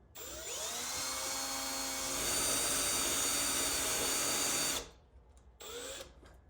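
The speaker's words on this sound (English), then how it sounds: "you are going to need a 5/16 drill bit to start drilling those holes" A power drill with a 5/16 bit whirs steadily for several seconds while drilling holes for a Mustang rear spoiler, its pitch rising as it spins up, then stops and gives one more short burst. Loud and close.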